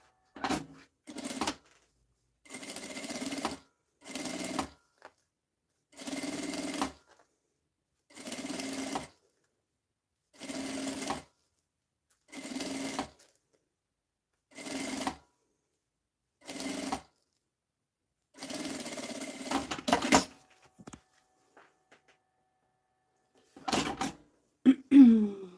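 A sewing machine sews fabric lining for a small cosmetic case in a run of short, evenly spaced stitching bursts separated by quiet gaps, clear and close with no talking.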